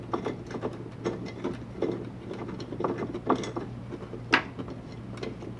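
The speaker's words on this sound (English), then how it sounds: "So let's loosen all of these bolts out front here." Bolts are loosened with a small included socket tool during assembly of a TR2 unit, producing faint, irregular ratcheting clicks and light metallic rattles close by.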